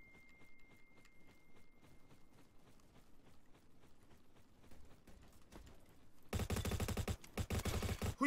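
In the Roblox shooter Bad Business, faint rapid gunfire ticks steadily in the distance, then a much louder close automatic burst erupts near the end in two sustained bursts.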